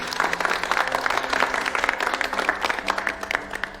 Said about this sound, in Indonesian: psikiater memberinya tepuk tangan atas pencapaian perubahan yang terjadi